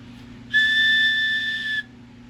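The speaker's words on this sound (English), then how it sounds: "Give a whistle there." A single steady whistle, clear and bright, held for just over a second over a faint background hum, coming through a Galaxy DX 55V CB radio transmitting at about 24 to 26 watts.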